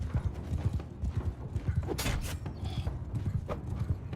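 Horses' hooves clip-clop in a fast, steady rhythm during a samurai battle in the video game Shokuho, with creaks and brief metallic clashes mixed in and no speech.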